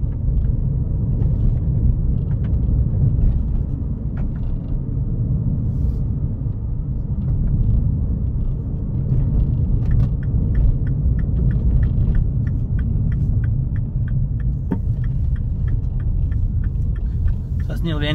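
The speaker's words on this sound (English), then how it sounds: "So that's nearly the end of our short virtual test drive." A Seat Leon on a test drive gives a steady low engine and road rumble from inside the cabin, with faint rattles and clicks over it and a voice talking now and then.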